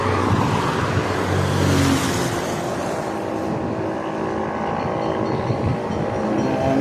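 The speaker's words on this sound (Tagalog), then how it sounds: "Medyo may maraming nadaan ng sasakyan." Many vehicles passing along a busy road, a continuous mixed traffic rumble with a louder pass around the middle, no talking.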